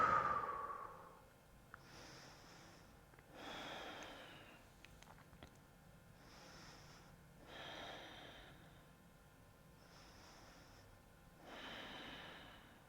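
Slow, deep yoga breathing, soft drawn-out inhales and exhales repeating about every two seconds, close and quiet in a calm room with no talking.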